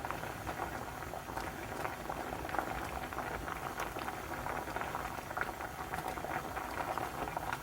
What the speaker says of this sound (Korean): 국물이 끓으면 뚜껑을 열고 갈치를 넣어주세요.